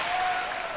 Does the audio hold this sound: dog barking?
no